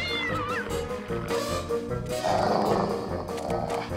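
A cat meows over a busy, continuous backdrop of music and other sounds, the call rising and bending before a louder noisy passage.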